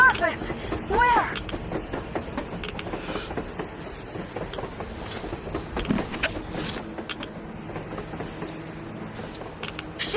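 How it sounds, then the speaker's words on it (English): A train rumbles past on the surface in the video game Metro Exodus, a steady low clattering roll with faint rhythmic clicks under a voice talking. "A damn train on the surface!"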